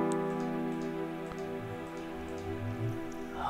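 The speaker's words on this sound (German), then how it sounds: "Ach ja, hier regnet es, jetzt sehe ich es auch" Soft, steady rain patter in Minecraft with scattered drips and ticks, set against a sustained tonal hum.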